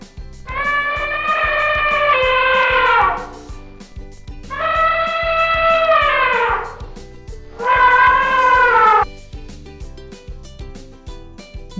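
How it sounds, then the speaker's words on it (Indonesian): An elephant trumpets three times in long, loud, harmonic blasts, each lasting a couple of seconds with short gaps between, over a steady low background. "Elephant."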